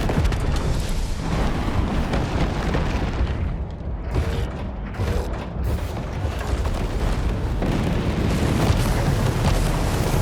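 Homing missile explosions in the video game War Robots Frontiers, a loud, continuous roar of booming blasts and grinding mechanical noise with a brief dip near the middle.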